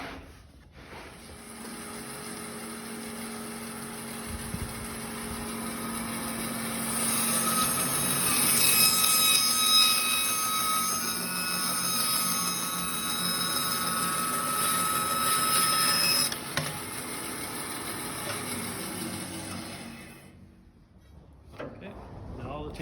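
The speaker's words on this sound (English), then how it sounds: "Let's go back to bandsaw, cut the last taper." A bandsaw cutting a taper into a black walnut table leg gives a loud, steady whine with a brighter tone while the blade is in the wood, then spins down near the end.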